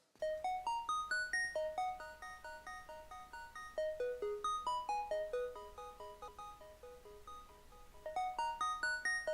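A bright Hypersonic synth preset through an arpeggiator plays quick repeating bell-like notes in rising and falling patterns, steady and clear with no voices.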